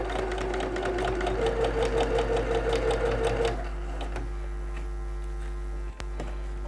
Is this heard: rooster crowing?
no